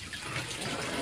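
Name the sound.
water flowing quickly from hydroponic system outlet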